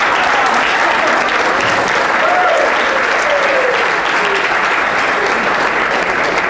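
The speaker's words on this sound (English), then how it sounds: "Another round of applause, ladies and gentlemen, Jeff Wade." Banquet audience applauding steadily in a large room, dense sustained clapping throughout at a loud, even level with no pauses.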